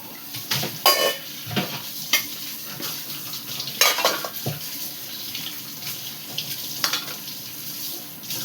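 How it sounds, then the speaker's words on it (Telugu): Curry cooking in a pot in a home kitchen bubbles and sizzles, with irregular stirring clatter and splashy, watery bursts over a steady low hiss, no talk heard. "అదిగో కర్రీ ఉడుకుతుంది"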